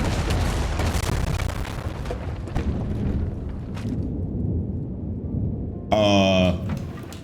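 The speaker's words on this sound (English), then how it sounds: "And watch out, there's gonna be more explosions." Explosions in Baldur's Gate 3 rumble and boom through a dense, loud wash of game sound, ending in a sharp burst near the end.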